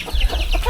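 Chickens, including special breeds with chicks roaming nearby, give a quick run of close, short clucks in a hilltop yard.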